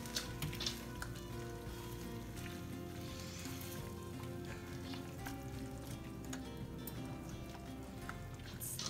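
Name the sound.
sweet and sour sauce simmering with noodles in stir fry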